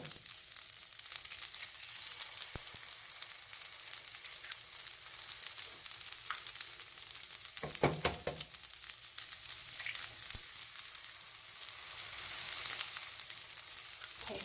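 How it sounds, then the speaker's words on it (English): Eggs sizzle and fry steadily in a Japanese noodle bowl being cooked, a faint continuous crackle with occasional stirring scrapes and small pops throughout. "so now I'm gonna add my eggs in"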